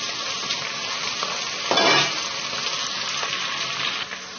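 Onions, green chillies and curry leaves frying in a pan, a steady crackling sizzle with a brief louder hiss midway as ingredients hit the hot oil, occasional faint stirring.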